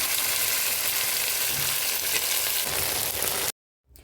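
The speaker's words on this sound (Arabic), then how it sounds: "واروح اجهز الباميه عشان اشوحها. وهشوح الباميه شويه،" Okra sautéing in a hot pan gives a steady, loud frying sizzle for about three and a half seconds, then it cuts off abruptly into near silence, with a faint sound returning at the very end.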